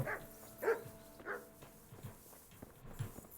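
Dogs bark in the video game Kingdom Come: Deliverance, giving a few sharp barks early on, then quieter yips and whimpers, moderately close, with faint footsteps and no talk.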